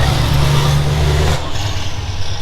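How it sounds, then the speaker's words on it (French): Scania V8 truck engine revving hard with a deep, loud roar, then cutting off abruptly into a turbo blow-off whoosh and lower idle rumble, heard up close. "Oh la décharge du turbo maintenant, comment qu'elle souffle."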